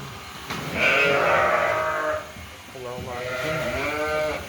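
Two long, wavering sheep bleats sound close by, one after another, with a quiet voice in the background.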